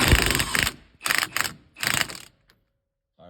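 A ratchet tightens a nut on a coil spring assembly with three close, loud runs of rapid clicking, then a brief silence and a faint knock.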